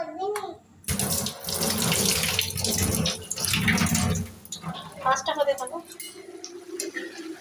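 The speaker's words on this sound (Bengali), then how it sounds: "এই পানি দিয়ে দিলাম পরিমাণ মতো" Tap water pours steadily into a cooking pot for a Bangladeshi home-cooked curry, a continuous splashing rush that fades in the last seconds, with a voice speaking over parts of it.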